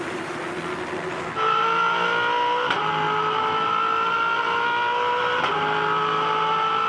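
A 2012 V8 Supercar flat out through turn 1 at Phillip Island at about 250 km/h, recorded on board: a loud, sustained engine howl with rising gear tones and brief sharp clicks, no talking.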